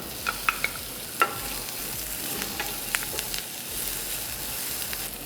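Curry leaves and onion hit hot oil while aloo bonda is being made, giving a steady close sizzle and crackle with a few sharp pops and clinks, with no voices.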